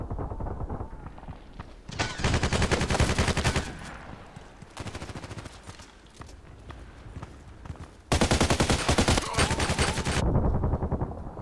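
An RPKT machine gun in the online shooter Contract Wars fires long, rapid automatic bursts, loud and close, separated by short pauses, with quieter stretches of movement in between.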